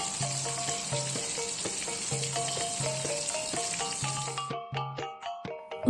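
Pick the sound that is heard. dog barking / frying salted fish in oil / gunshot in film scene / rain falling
frying salted fish in oil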